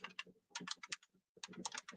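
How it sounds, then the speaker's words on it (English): Someone types on a computer keyboard with quiet, close bursts of rapid keystrokes that stop briefly and then start again. "And I'm sorry for typing."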